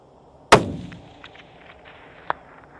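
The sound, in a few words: Remington rifle gunshot, long range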